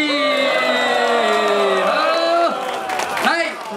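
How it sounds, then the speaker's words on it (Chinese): A stadium crowd at the CPBL 30th anniversary all-star game at Xinzhuang Baseball Stadium roars during pre-game cheering: loud sustained massed voices and whoops, with rising shouts near the end and only faint clapping beneath. "拍手鼓励。"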